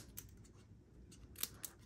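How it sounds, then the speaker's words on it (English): Scissors cut craft paper pieces at an angle for a Stampin' Up! card project, giving a few faint, crisp snips in a quiet room. "take your scissors and you want to cut"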